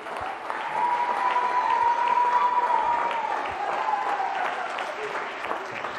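Audience applause at a sports event in Rapallo, a continuous wash of clapping from a crowd that swells and then eases slightly, with a faint tonal hum running beneath it.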